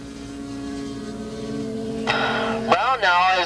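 Racing motorcycles in a 1985 450 class race at Willow Springs brake and downshift into a turn, their engine pitch dropping and sweeping in wavering whines over a steady drone.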